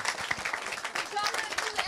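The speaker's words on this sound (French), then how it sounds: "on peut les applaudir" A crowd applauds the Toulouse women's rugby players, a faint, scattered patter of clapping under prominent talk nearby.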